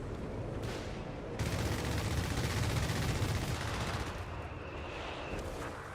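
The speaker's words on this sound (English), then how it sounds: "Now a strafing run." A strafing run in Company of Heroes 3 produces a dense, continuous roar of rapid gunfire and blasts that swells in the middle and holds loud before easing slightly, with no clear voices.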